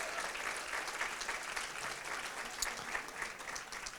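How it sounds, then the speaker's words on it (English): Steady audience applause at the Toronto Book Awards, a continuous wash of many hands clapping in a large room, even and sustained throughout at moderate distance. "Let's give all three a nice round of applause,"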